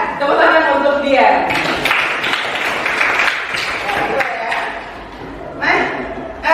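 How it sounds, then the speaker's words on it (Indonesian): Classroom students clapping for a classmate, a dense burst of applause lasting several seconds, with a voice speaking before it and again as it fades. "Tepuk tangan untuk dia."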